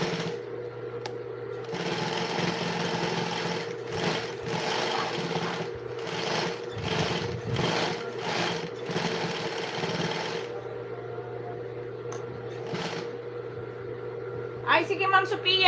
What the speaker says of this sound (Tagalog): Ang naririnig lang dito yung tunog ng makina ko.